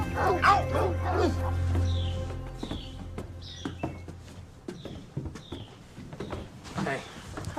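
A tracking dog barks sharply up close, then gives a run of high whimpers and yips, with a voice speaking over the start.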